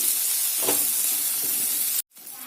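Onions frying in oil in a pan for a drumstick masala curry, a steady soft hiss of sizzling with one brief stir, cutting off abruptly near the end.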